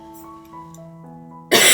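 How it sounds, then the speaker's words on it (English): A single sharp, loud cough bursts out near the end, after a stretch of quiet, soft tonal background sound. "still coughing away"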